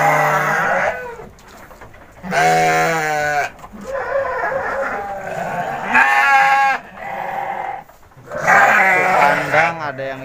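Goats bleat repeatedly at a livestock market for sacrificial animals in Kuningan, several loud, wavering calls in bursts close by, with traders talking in the background between them.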